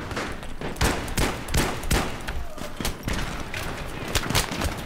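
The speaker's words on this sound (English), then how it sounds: "Still shooting at me?" Video game gunfire crackles in dense, overlapping bursts of rapid shots throughout, loud and close, with steady in-game background noise underneath.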